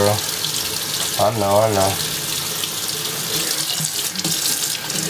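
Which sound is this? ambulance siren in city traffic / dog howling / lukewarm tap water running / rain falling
lukewarm tap water running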